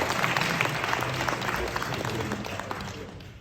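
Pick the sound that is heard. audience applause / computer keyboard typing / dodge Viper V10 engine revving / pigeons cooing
audience applause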